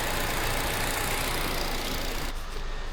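A Kia Cerato engine with an injector circuit fault and low power idles steadily and loudly, a constant close rumble with no talk, cutting down slightly near the end.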